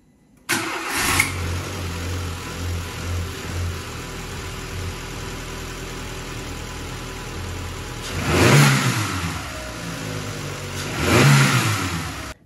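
A 1998-2005 Renault Clio II petrol engine, just back from an ignition repair, starts abruptly and settles into a steady idle, then gets two distinct revs close up near the end.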